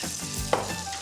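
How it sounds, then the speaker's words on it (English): Pancetta crisping in a pan, giving a steady close sizzle with one brief clink partway through. "I have my pancetta crisping away in the pan."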